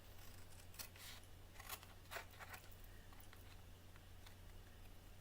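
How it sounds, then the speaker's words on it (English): Scissors cutting a score line into a square of paper, heard as a few quiet, crisp snips and rustles scattered over a faint background hum, with no talking. "we're going to take this square and cut the score line into the square"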